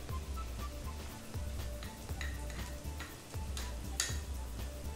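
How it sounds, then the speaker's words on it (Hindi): Finely chopped large onion frying in a pan for dal, a faint, steady sizzle with light ticking and occasional stirring scrapes throughout. "एक बड़ा वाला प्याज बारीक कटा हुआ ये डाल लें, इसको भून लें।"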